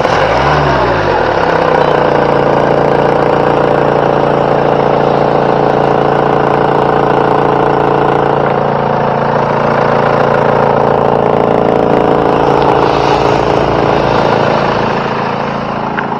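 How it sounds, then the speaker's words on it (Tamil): A 2013 Mahindra Verito car engine idles steadily and loudly close by, a constant even hum with no speech over it. "வண்டியோட இன்ஜின் சவுண்டை பார்த்தீங்கன்னா கேட்போம்."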